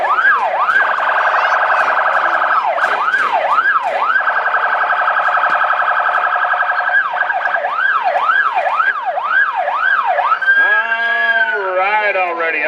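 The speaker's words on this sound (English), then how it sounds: "I hear an ambulance is on its way." A loud ambulance siren wails close by at a rodeo, cycling through rapid yelping sweeps and steadier two-tone stretches, with a voice briefly cutting in near the end.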